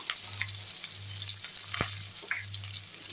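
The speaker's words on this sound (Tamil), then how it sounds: "கருவேப்பிலையை போட்டு பச்சை மிளகாவும் போட்டுடலாம். நல்லா வதக்கி விட்டுருவோம்." Curry leaves and green chili sautéing in oil, an even close hiss of frying with a faint low hum beneath and a single sharp clink partway through.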